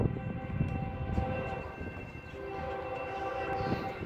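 A BNSF freight train rumbles past with a steady rolling roar and sustained horn tones layered over it, fairly distant and continuous, with no talk.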